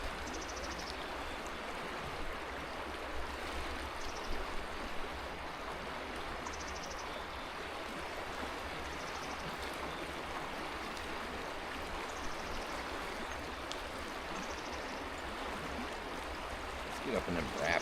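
Steady broadband rush of a trout stream's rapids, continuous and fairly close, with faint splashes and small ticks riding on the constant flow and no talk over it.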